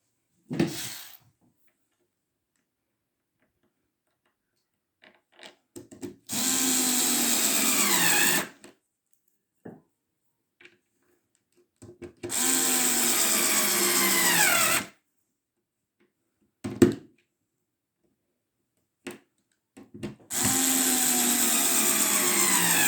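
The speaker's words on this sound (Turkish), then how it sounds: "Bu şekilde 4 tane hepsini teker teker vidalıyoruz." A power drill drives screws into old furniture in three separate bursts of a few seconds each, whining up and winding down, with quiet handling clicks in the gaps.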